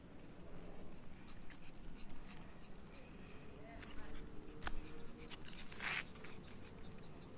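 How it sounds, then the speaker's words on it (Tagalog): A dog whimpers and snuffles faintly amid outdoor background noise, with jingling and brief rustles nearby. "Yung aso nila sa kabila."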